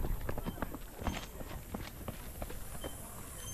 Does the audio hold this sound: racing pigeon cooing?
no